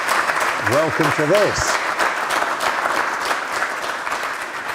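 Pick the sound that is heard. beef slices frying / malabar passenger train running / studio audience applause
studio audience applause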